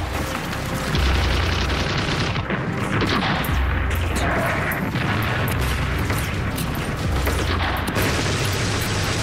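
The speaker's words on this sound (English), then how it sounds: "large-scale artillery barrages, followed by mass infantry assaults" Large-scale artillery barrage in wartime, loud repeated booms and cracks of gunfire layered over a continuous rumbling roar, with heavy thuds recurring every second or two.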